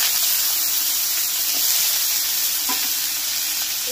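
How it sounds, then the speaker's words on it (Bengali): Chopped radish fries in a pan, giving a steady, close hissing sizzle with light crackles and occasional stirring noises throughout. "মূলোটাকে হালকা একটু এরকম ভেজে নেবে।"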